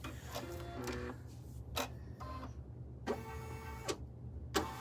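An embroidery machine stitches an in-the-hoop vertical wallet in short mechanical bursts of whirring and clicking, separated by brief pauses, close and fairly quiet, with no talking.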